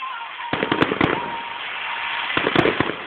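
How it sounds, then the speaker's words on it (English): Carnival fireworks going off in a quick burst: a string of sharp crackling bangs and pops over a loud hiss, with a few louder reports standing out, heard from a distance. "that firework we saw, look."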